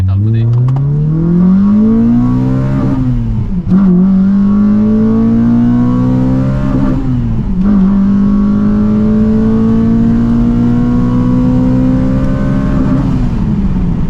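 A Honda car's engine revs and climbs through the gears while driving with the windows open, its steady drone rising in pitch, dipping at each shift, then pulling again, loud and close throughout.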